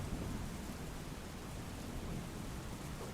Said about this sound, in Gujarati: વલસાડના ઉમરગામમાં ધીમી ધારે વરસાદ વરસી રહ્યો છે